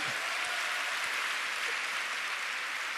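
Applause from a church prayer-meeting congregation, a continuous, fairly soft and even patter of many hands heard from a distance, with no speech over it.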